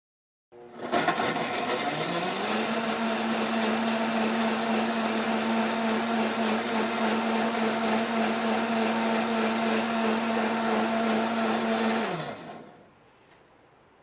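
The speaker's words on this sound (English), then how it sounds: "We're going to blend all of this together" A blender blending a tropical green smoothie runs loud and steady for about twelve seconds, its whirring pitch shifting slightly early on, then winds down and stops.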